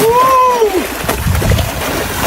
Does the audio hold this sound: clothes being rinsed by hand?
yes